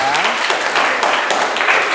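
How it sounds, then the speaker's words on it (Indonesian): A classroom of students applauds for a classmate after a lesson on a Quran verse, dense continuous clapping filling the whole stretch at close range, with some voices mixed in. "tepuk tangan ya buat teman kalian ya"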